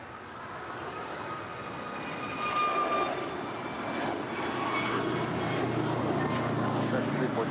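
A United airliner lands on runway 25 left at LAX, its engine roar swelling gradually from a moderate distance and holding as a broad, sustained rumble, with faint voices in the background.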